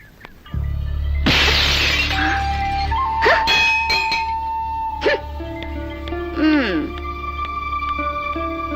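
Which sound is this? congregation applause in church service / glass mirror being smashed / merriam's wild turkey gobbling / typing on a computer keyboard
glass mirror being smashed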